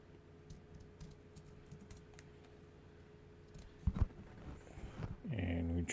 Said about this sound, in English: I'm just going to cut the rest by scissors because it seems so much faster.